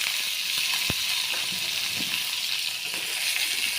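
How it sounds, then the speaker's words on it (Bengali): Green chillies sizzle in very hot oil in a wok, a loud steady hiss with a few sharp pops and a clink of the spatula, no voices. "আমি মরিচগুলো টেলে নেই, ভর্তাটা বানাবো। আমার এই কড়াইয়ের তেলগুলো খুবই গরম হয়েছে"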